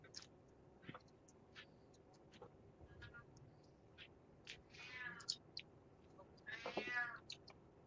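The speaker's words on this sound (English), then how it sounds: "I hear a kitty cat." A pet cat meowing several times indoors, a few short mews and then a longer, louder drawn-out meow near the end, heard over low background hum.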